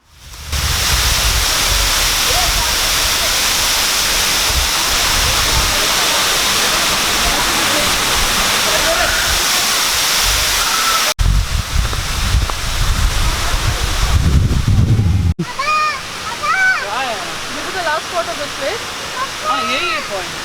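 Steady roar of the Powai dam waterfall in Mumbai, loud and continuous broadband rushing close by, with a brief shift partway through and a voice talking over the falling water near the end.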